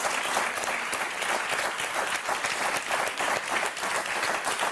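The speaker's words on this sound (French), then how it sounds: "Et très, très beau retour de Jérôme et d'Étienne qu'on va applaudir très fort." TV game show studio audience giving sustained applause, a thick even patter of many hands clapping continuously, close and steady without pauses.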